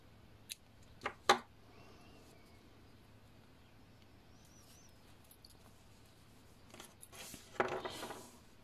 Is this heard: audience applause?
no